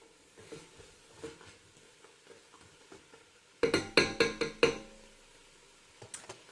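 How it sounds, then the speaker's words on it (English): Onions cook in a pan for a chicken tagine, giving a soft sizzle under a cluster of sharp clinks and stirring knocks from a utensil against the pan, close and moderately loud. "I want the onions to start to caramelize."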